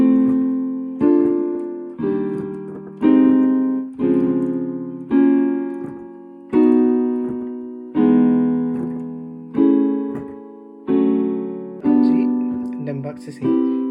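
A piano plays a sequence of sustained chords moving around the circle of fourths, one chord roughly every second, each decaying before the next, played alone.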